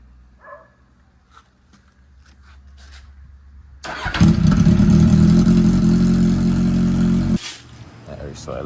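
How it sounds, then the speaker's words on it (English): Kawasaki Z800 motorcycle engine starting and idling while warming up before an oil change, a loud steady idle rumble running for several seconds after quieter handling noises, then dropping back. "I go let the bike warm up for a little bit. Let it run, and then I go start the oil change."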